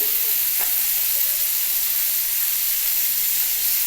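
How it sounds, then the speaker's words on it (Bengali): Vegetables frying in a pan with salt and a little turmeric for a spicy semolina dish, a constant close sizzle and hiss with a faint stir or clink near the start. "বাকি সবজিগুলি ভাজতে বেশি টাইম লাগবে না যেগুলো ভাজাভাজি কাজ হয় আমি সেগুলোকে আগে ভাজি"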